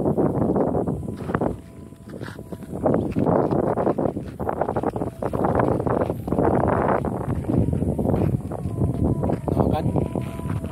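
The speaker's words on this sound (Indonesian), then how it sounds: "angin yang cukup keras ya." Strong wind gusts on a mountaintop at a tourist spot, roaring in loud, buffeting bursts against the microphone for the whole stretch.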